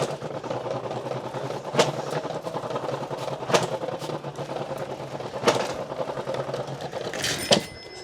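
A bicycle rigged to mimic a Bullet motorbike gives off a steady, rapid mechanical chatter like a sputtering engine, moderately loud and close, broken by a few sharp clicks and no voices.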